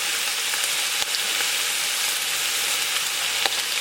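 Ground beef and Italian sausage browning in a pan for lasagna give a steady, close sizzle and crackle that holds the whole stretch, with a few sharp pops and scrapes and no voices.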